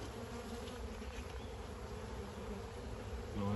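Honey bees in an apiary drone in a dense, steady buzz around an opened hive during an inspection, faint and continuous.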